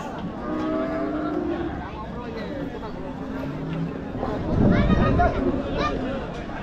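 Large cattle at a busy livestock market low with a deep, drawn-out moo that swells near the end, sounding over a constant crowd babble and distant engine noise.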